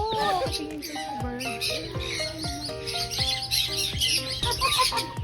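A pet bird held on a woman's hand chirps and tweets in a rapid run of short bright calls, close by, with people talking softly in the background.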